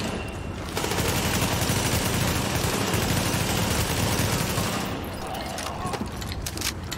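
Sustained automatic rifle fire in the shooter game The Division, with a weapon of high fire rate, forming a dense, loud rattle of rapid shots through the middle of the clip, with quieter gaps at the start and end.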